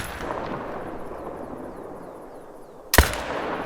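A rifle in theHunter: Call of the Wild fires one sharp, loud shot near the end, followed by a brief echoing tail. Before it comes a low ambient outdoor hush with no voices.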